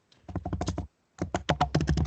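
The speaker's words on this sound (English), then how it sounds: "I can hear someone typing really loudly." Someone types loudly on a computer keyboard during an online webinar, heard as two rapid bursts of close keystrokes separated by a short pause.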